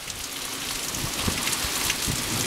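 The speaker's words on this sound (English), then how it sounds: "Think California would like a little bit of this rain?" Heavy rain pours steadily during a stormy night in Texas, a dense, continuous hiss of drops striking surfaces close by, loud and unbroken with no voices over it.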